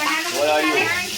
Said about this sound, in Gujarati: ચલો વઘાર કર્યો આદુ મરચાં લસણ